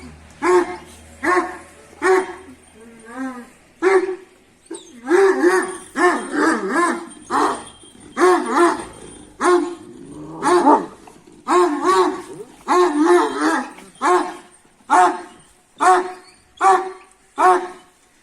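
Several dogs bark in quick repeated bursts, mixed with high whimpers and yips, close and loud, with a person's voice faintly in the background.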